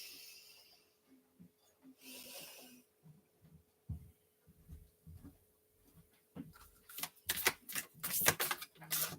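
Cards are shuffled and drawn from a Kali oracle deck, giving soft papery riffles and crisp flicks that grow louder and denser toward the end, with a voice speaking briefly.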